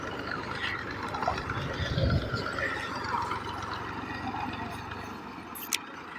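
A tractor drives through water, splashing and churning with a steady low engine drone underneath, fairly faint and continuous, with a brief sharp knock near the end.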